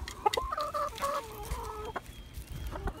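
Chickens cluck inside a coop, a few close, drawn-out bawks and short clucks overlapping, with faint shuffling noise underneath.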